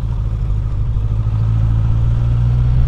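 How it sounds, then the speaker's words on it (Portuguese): A motorcycle fitted with a sport exhaust runs steadily close by, a deep throaty exhaust rumble holding a constant low drone throughout. "mas a sua moto não é tão barulhenta"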